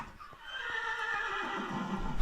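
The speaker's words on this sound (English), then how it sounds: "And look at that, there's baby horses." Horses and baby horses from the Mo' Creatures mod in Minecraft whinny in a drawn-out, wavering neigh, loud and close, with faint clip-clop hooves beneath and no talking.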